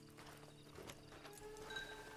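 Horse hooves clip-clopping in the Red Dead Redemption 2 video game, a few soft, quiet hoofbeats over a low background ambience, with no one talking.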